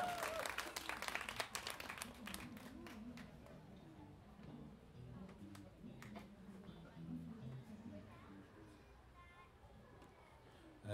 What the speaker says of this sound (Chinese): 给老外掌声鼓励一下